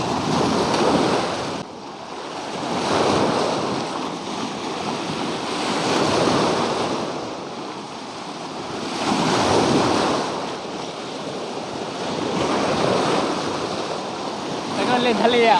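Sea waves roll onto the sandy shore at Hat Sai Kaeo beach, swelling and receding in slow, steady surges with wind noise over the microphone throughout.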